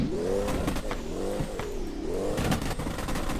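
Nissan S15 drifting, its engine revving hard and swooping up and down in pitch with a loud, continuous sustained roar and brief tire scrub.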